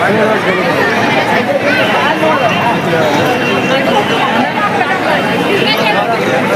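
Dense crowd of devotees at the Balumama temple in Admapur, a steady hubbub of overlapping chatter and movement filling the whole stretch at close range with no gaps.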